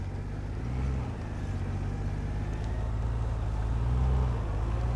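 A motorcycle creeping at slow speed with a slipping clutch and a little throttle, giving a steady low engine rumble with slight rises in revs, close and continuous.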